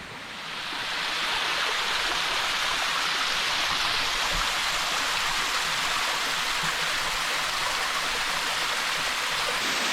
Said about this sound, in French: Voilà la dernière cascade avant le toboggan qui surplombe à 45 mètres